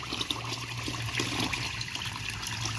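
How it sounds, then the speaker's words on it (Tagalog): Glutinous rice being washed in water, a steady close swishing and trickling of water with no voices. "Ang una natin gagawin para sa ating malagkit ay hugasan natin."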